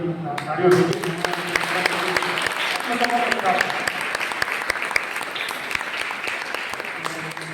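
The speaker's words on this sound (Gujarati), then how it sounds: "તાળીઓની" A room of students at a university annual report event claps steadily for the teachers. The loud, continuous applause holds throughout, and a voice briefly sounds near the start.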